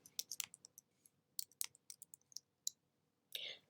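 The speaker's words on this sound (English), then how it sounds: "I'm going to type accountancy." Quick, light clicks of a computer keyboard as text is typed into an Excel spreadsheet, coming in uneven bursts with short pauses and one longer run at the end, faint and close with no talking.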